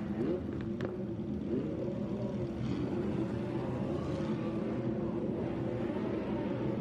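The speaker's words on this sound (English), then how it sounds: "it's a great sound as well that a Lamborghini grid makes" Several Lamborghini race car engines droning together on the grid at Imola at a distance, a dense layered rumble with a few revs rising over the steady roar.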